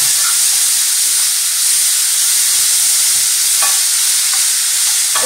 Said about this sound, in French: Et je vais faire revenir mes champignons dans ce mélange.